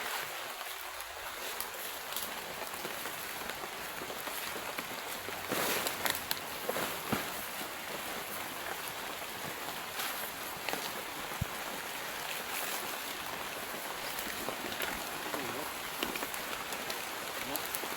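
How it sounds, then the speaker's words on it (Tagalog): Heavy rain pours down steadily in a dense, hissing wash, with a few louder bursts of drops, under a faint voice. "Lakas ng ulan"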